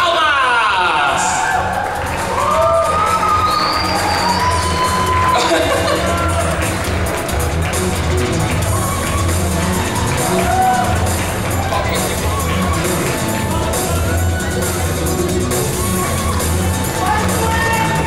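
Crowd at a cosplay parade at an anime convention cheers, whoops and claps as a couple costumed from Fairy Tail walks out, a loud hubbub of shouts and applause with an amplified announcer voice and music in the background.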